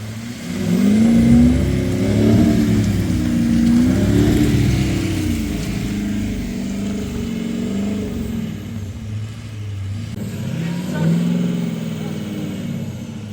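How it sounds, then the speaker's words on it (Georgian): A car drives slowly along a rough track with its engine revving up and down in repeated swells, loud and close, with a voice speaking briefly over it. "გაწიე ცოტა მანქანა ნელა"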